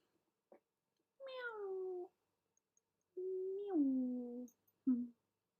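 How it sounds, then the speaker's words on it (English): A cat gives two long, drawn-out meows with falling pitch, then a short chirp, close and clear against a quiet room, with a faint click before the first call. "Meow."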